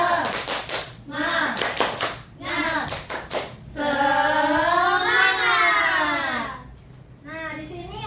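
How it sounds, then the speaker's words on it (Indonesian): Classroom spirit-clap chant (tepuk semangat) led by a teacher with children: rhythmic bursts of group clapping alternate with chanted, sung-out voices, including a long held vocal stretch, all close and lively. "Tapi sebelum itu kita tepuk semangat dulu yuk."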